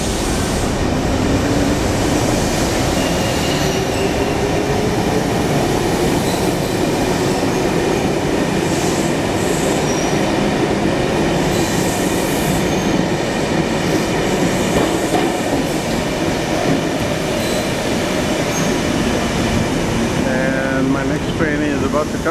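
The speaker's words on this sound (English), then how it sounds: "have you see this train here, the subway train, which is a double decker" A double-decker subway train in an Australian station gives off a continuous loud rumble and whirring hiss with faint clicking, steady for the whole stretch, with a voice talking over it.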